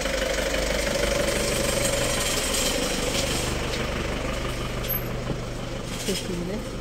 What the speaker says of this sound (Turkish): Şimdi arabalar da geçiyor bir yandan.